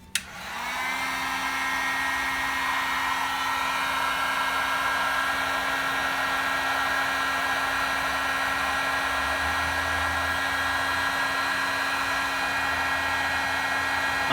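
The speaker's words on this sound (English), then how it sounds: "let's go ahead and hit it with our heat gun" A heat gun blows steadily on electrical tape wrapped around a connection on a high-power model rocket, a loud continuous whirring hiss with a constant hum that begins with a click and runs alone throughout.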